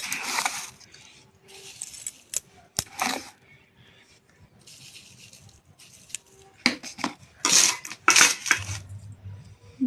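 Pickle spices and salt being stirred into heating oil in a pan, heard as scattered metallic scrapes and clinks of a utensil against the pan, some loud and close, with quiet pauses between bursts.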